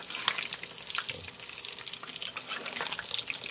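Pakbet with plenty of bagoong and chili bubbling and frying in a pan, a steady close wet crackle with splashy, watery bursts throughout.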